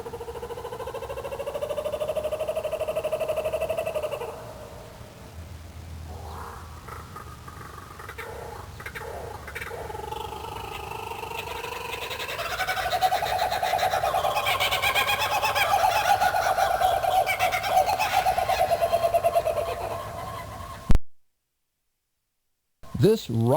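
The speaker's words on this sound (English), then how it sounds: "the laughing kookaburra" Laughing kookaburra calls ring out in a rising, raucous chorus of rapid chuckling hoots, building in intensity toward the end before breaking off abruptly.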